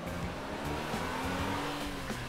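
Toy convertible car driving along, heard as a steady, busy motor-and-tire whir with squealing, racing-style texture throughout, loud and continuous with no talking.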